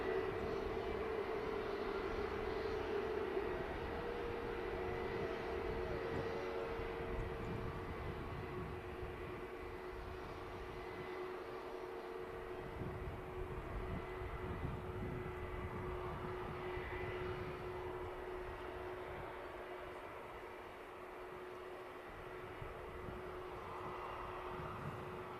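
An EgyptAir airliner passes by Manchester Airport with a sustained jet engine roar and a steady tonal hum, loud and fairly near at first, then easing gradually as it moves away.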